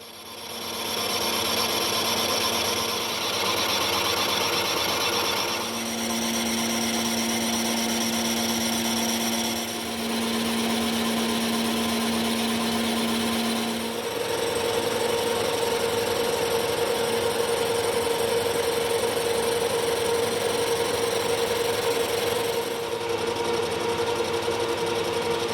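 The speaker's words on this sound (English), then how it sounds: "Same insert and just put the lathe to work." An Okuma LS lathe runs with a carbide insert, cleaning up a damaged, rusty 4-jaw chuck: a continuous close mechanical whir with steady cutting hiss and shifting whine tones throughout.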